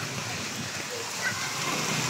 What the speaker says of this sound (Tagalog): Sobrang lakas kasi ng ulan.